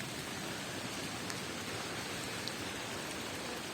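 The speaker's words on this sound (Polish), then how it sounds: "Co za pogoda. Patrzcie. Pada na niego" Steady rain falling outdoors under a tree, a dense even hiss of drops on a surface that holds constant throughout with no other sounds.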